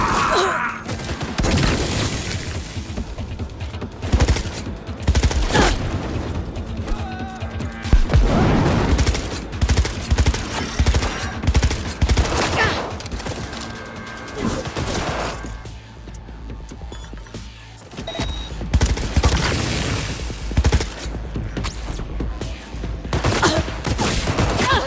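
A new shotgun fires in Cyberpunk 2077 amid a chaotic fight, heavy booming blasts recurring every few seconds over continuous loud combat noise and mechanical clatter.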